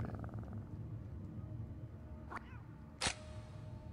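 A cat in the video game Lethal Company purrs in a low, continuous rumble, close and fairly quiet, broken by two sharp high clicks or squeaks near the end.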